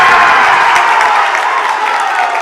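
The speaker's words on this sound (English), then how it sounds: "And the Loyal bench on their feet cheering on their squad" Basketball bench players for Loyal on their feet cheering their team in a high school gym during a WIAA boys game, a loud, steady wash of crowd noise and applause with no distinct voices.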